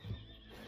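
Horse in the video game Red Dead Redemption 2 giving a single short, close neigh.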